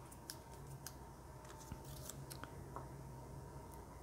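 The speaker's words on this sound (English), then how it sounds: "So I'll trim those down and remove that extra little piece." Scissors snip through shaker card pieces, trimming off overlapping extra bits in a few quiet, crisp cuts at close range.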